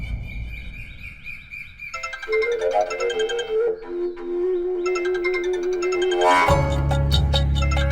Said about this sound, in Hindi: अरे इस बुड्ढी का फोन आ रहा है।